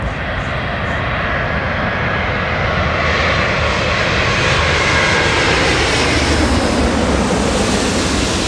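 A jet airliner lands at Los Angeles International Airport on runway 24 right in a slight crosswind, its engines giving a loud, steady roar with broadband rushing air throughout.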